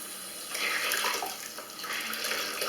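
Running tap water pours steadily while hands are rinsed beneath it, a continuous close splashing rush that swells slightly in the middle and toward the end, with no talking.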